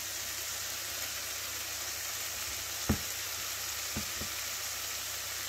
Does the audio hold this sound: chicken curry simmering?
yes